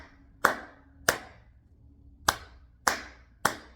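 Hands clap a dance rhythm: five crisp, close claps in an uneven pattern, with gaps that vary between them and no talking.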